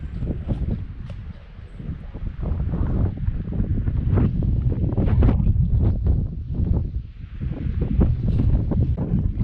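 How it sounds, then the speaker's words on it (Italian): Strong wind roars and buffets the microphone in surging gusts at a viewpoint over the Strait of Messina, a deep, close rumble that rises and falls throughout with no talking. "c'è vento"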